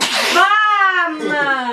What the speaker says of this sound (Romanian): acum trece mare strănut